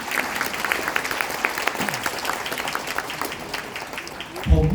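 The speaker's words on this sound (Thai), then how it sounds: "เราให้ปรบมือให้พวกเรา" A crowd at a celebration event for a Thai cooking show's 200th episode breaks into sustained applause, a dense steady clatter of many hands lasting several seconds, with a brief voice and a louder bump near the end.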